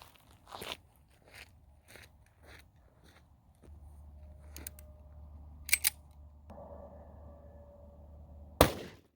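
A 10mm pistol is fired at a block of ballistics gel from 15 feet. A single sharp, loud crack comes near the end, after scattered quieter clicks and handling noises.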